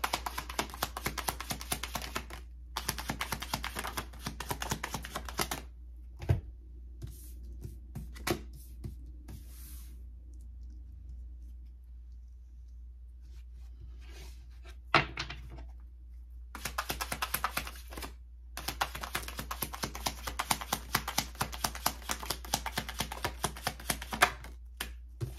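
Tarot cards taken out and handled, giving dry rapid tapping and shuffling clicks in dense bursts, with a quieter pause in the middle before the handling resumes close and steady.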